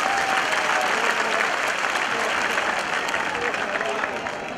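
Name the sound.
applause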